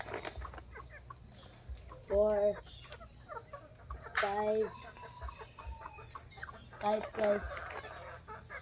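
Chickens cluck in a few distinct bursts, close and fairly loud, with someone talking between and over them.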